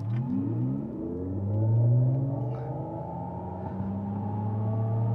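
A Mercedes-Benz EQS 450+ rear-wheel-drive single-motor electric sedan pulls away hard from a standstill in sport mode, its motor whine rising steadily in pitch with a low rumble, heard from inside the cabin with no talk.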